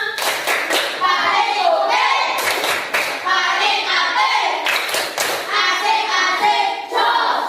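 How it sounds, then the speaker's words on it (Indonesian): A class of 6A primary pupils does a rhythmic group clapping cheer in a classroom, with quick repeated hand claps and thumps, loud and close, alongside children's voices. "Yuk tepuk kelas 6A."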